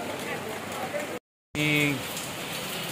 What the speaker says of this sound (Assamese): বৰষুণ কমাই নাই তথাপিও আমি তিতি গৈ আছোঁ